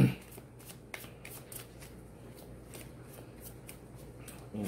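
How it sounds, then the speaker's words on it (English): A deck of angel cards being shuffled by hand, a soft riffling of card stock with quick repeated flicks and slaps, close and steady throughout with no voices. "pull an angel card for the week"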